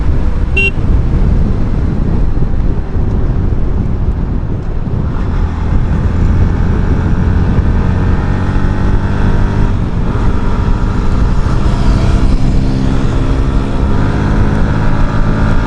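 Pulsar NS160 and Apache RTR motorcycles race each other on a mountain road, with a constant loud engine roar and heavy wind buffeting over the microphone from start to end.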